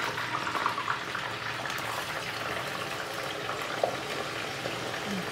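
Potato cubes frying in oil for a cold salad-style dish give a steady, dense sizzling hiss that runs unbroken at moderate volume, with a few faint pops and no voices.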